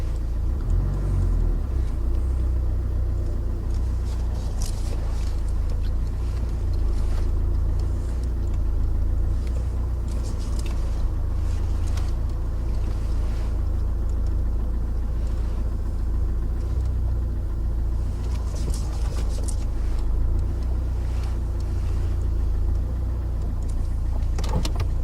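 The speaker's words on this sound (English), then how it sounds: "Michael, like to switch your engine off for me, please" A parked car's engine idles with a steady low rumble throughout, close by and fairly constant, with a few faint higher clicks and rattles above it and no talking.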